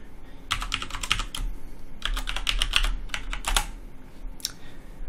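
Root password typed on a computer keyboard at a Linux login prompt: two quick bursts of close, crisp key clicks, a short pause, then a final few taps, with no talk.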